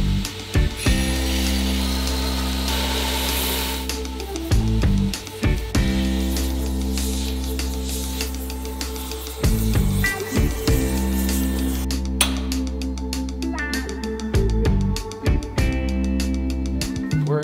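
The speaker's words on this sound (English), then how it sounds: "We're setting up on the fly press here." A fly press running hatchet heads for 1912-pattern hatchets, with a steady heavy mechanical drone broken by repeated thumping press strokes at roughly two-to-three second intervals, close and loud.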